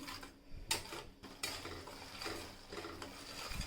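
Tomato puree stirred in a pan while sautéing for a spiced okra curry, a utensil scraping and clinking against the metal with a few sharp knocks, close and alone.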